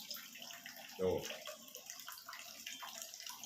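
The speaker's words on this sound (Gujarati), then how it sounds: "નળમાં આવું પાણી આવી રહ્યું છે" Dirty water runs from a household tap in a residential society in Botad, Gujarat, a faint steady flow with a short spoken word breaking in briefly.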